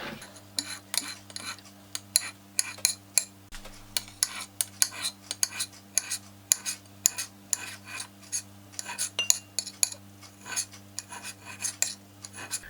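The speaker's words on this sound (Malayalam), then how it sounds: "ഇത് ചെറുതായിട്ടൊന്ന് കട്ട് ചെയ്തെടുക്കാം." A knife cuts washed aloe vera into small pieces, giving a quick run of crisp, clicking taps against a hard surface, close up and with no talk.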